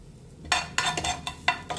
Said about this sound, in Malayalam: കുറച്ച് വെളിച്ചെണ്ണ, കുറച്ച് സവാള ഇട്ട് കൊടുക്കാം. ഇളക്കി കൊടുക്കാം